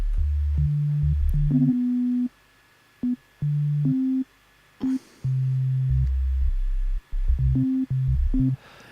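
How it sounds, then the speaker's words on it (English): Pure sine wave synth tone played in Ableton: a loud, clean low bass note stepping through short melodic phrases, with abrupt starts and stops and brief silent gaps. "yeah, this is a sine wave"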